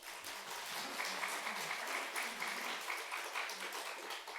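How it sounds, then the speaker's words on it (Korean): Sustained congregational applause for a newly married couple in a church during a Sunday worship service, a dense even wash of many hands clapping steadily throughout. "박수 한번 해주세요."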